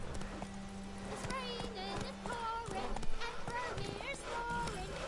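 Horse hooves clip-clop at a trot in The Witcher 3 game, a steady rhythmic series of hoof falls running under game music and a talking voice.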